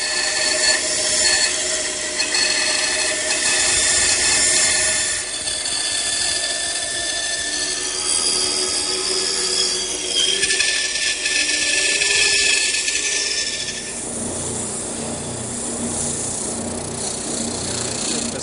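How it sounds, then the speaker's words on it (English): A bandsaw cuts a traced outline in a wooden blank in a woodworking shop, a steady loud whine and rasp that runs unbroken and changes tone near the end of the cut. "I just trace that outline, and then I head over to the bandsaw"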